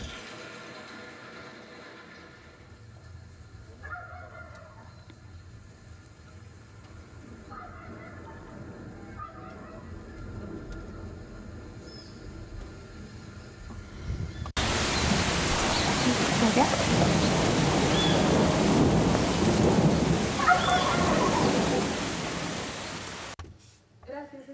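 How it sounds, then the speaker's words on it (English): Drizzling rain with wild turkeys gobbling and calling in the distance, a broadband wash of rain that grows much louder partway through, with faint low rumbles beneath and scattered bird calls over the steady patter. "It drizzles, a guajolote sings, and thunder answers."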